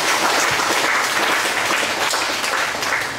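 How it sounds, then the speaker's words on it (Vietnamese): Sustained applause from a crowd at a dinner gathering of a charity group, steady and dense from start to finish with no pauses. "một tràng pháo tay."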